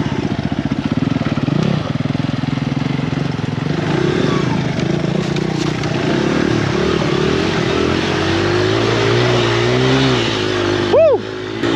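Enduro motorcycle engine running and revving steadily on a trail, loud and close throughout, with a rising whine near the end and a rider's voice occasionally over the motor.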